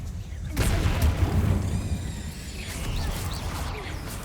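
The Confringo spell blasts in Hogwarts Legacy, a heavy booming explosion that hits suddenly and rumbles on with crackling, whistling debris trailing off, a voice briefly heard beneath.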